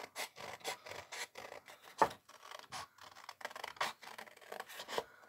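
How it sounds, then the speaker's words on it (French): Scissors cut around a paper Easter hat, making close, irregular snips and rasping rubs that start and stop in short bursts, with one sharper snip partway through. "Et puis là, on coupe autour."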